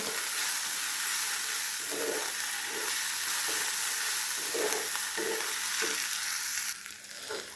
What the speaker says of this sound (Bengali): যতটুকু পারি ততটুকু কষাবো